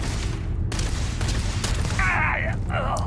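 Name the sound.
grenade explosions and gunfire in video game Starfield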